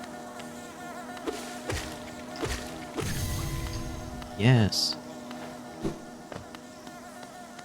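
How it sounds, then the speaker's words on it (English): Bees buzzing in the Hollow Knight video game, a steady insect drone with game impacts and a rising whooshing effect midway, and a brief spoken word over it. "So many bees."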